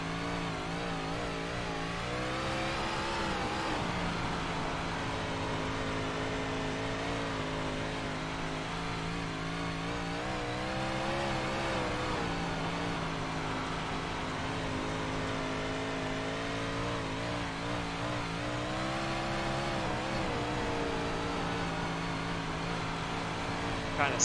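Big Block Modified race car engine held at wide open throttle on a dirt track, a loud sustained roar with rising and falling pitch through the laps, a voice talking beneath it.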